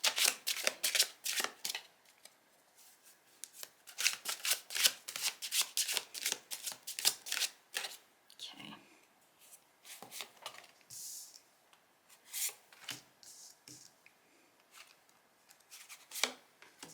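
Tarot cards are shuffled up close in bursts of quick, crisp riffling flutters, pausing briefly and resuming, quiet and alone with no talk.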